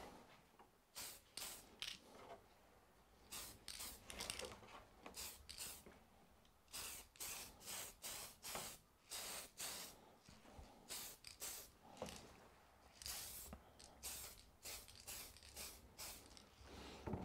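Tamiya PS spray paint can spraying light coats onto a polycarbonate RC car body: a series of short hissing bursts, close and fairly quiet, repeated in an irregular rhythm with brief pauses between them.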